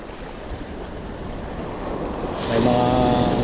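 Strong sea waves roll and churn in rough weather under gusting wind noise, a steady rushing wash that swells louder near the end.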